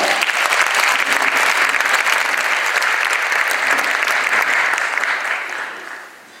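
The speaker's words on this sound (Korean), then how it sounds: "목사님 나오실 때 큰 박수로 모시도록 하겠습니다" A church congregation applauds loudly and steadily for several seconds at a Sunday service, then the clapping fades away toward the end.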